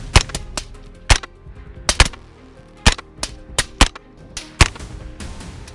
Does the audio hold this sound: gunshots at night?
yes